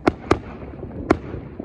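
New Year's fireworks explode as a few sharp, separate bangs with short gaps between them, heard at moderate distance over a quiet background.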